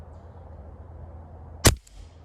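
An AEA HP Series SS semi-auto air pistol fires once into a wood backstop, a single sharp crack with a quick metallic bolt clack, close and fairly loud over quiet room noise.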